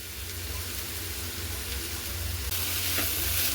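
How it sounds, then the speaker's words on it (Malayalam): Beans sizzle and fry in a pan as they are stirred, a constant close hiss that grows slightly louder and brighter toward the end, with no talking. "ബീൻസ് ഇട്ട് നല്ല മിക്സ് ചെയ്ത് പാകത്തിന് ഉപ്പും ഇട്ട് അടച്ചു വെച്ച് വേവിക്കണം."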